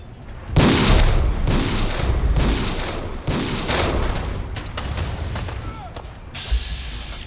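Gunfire from Fallout 4 aimed at attacking anglers: loud repeated shots with booming impacts crack in quick succession. A voice briefly talks over the firing late on.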